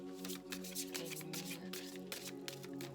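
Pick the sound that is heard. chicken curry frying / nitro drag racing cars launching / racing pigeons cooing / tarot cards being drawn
tarot cards being drawn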